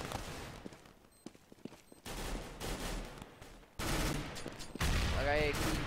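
Gunfire is exchanged during an esports match, with scattered shots at first, then bursts and dense sustained firing that grows louder, mixed with game effects and a rising whine near the end.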